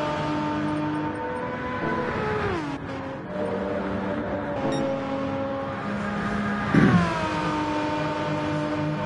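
A Jaguar race car in Gran Turismo 7 speeds along, its engine note holding high and steady with several pitch drops as gears shift, at moderate loudness throughout and alone with no voices.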